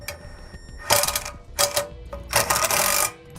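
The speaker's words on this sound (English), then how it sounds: "we're using number 14 self-tapping screws to go into place here" Number 14 self-tapping screws being driven into a camper frame to mount Lippert scissor stabilizer jacks, with three or four short bursts of whirring, rattling driver noise separated by brief pauses.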